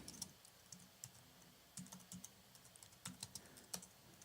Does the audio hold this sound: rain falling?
no